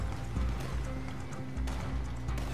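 In the Red Dead Online video game, a horse runs, its hooves clip-clopping at a quick rhythm under faint background game sounds.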